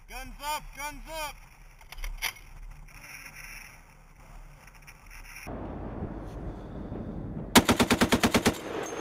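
M2 Browning .50 caliber machine guns firing from Humvees at a large military training exercise, starting with bursts of heavy rapid shots. After a quieter gap with radio chatter and rumble, a final loud burst of about eight evenly spaced booming rounds follows.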